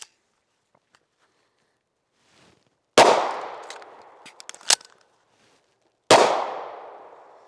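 A pistol slide slams home twice in sharp, loud metallic clacks a few seconds apart, with faint handling clicks and rattles between them as rounds feed from the magazine.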